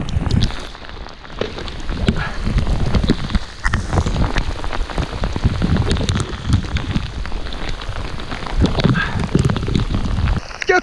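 Heavy rain pours down steadily during a storm while fishing, a dense continuous drumming and hiss on surfaces close by, with wind and occasional knocks and handling noises mixed in.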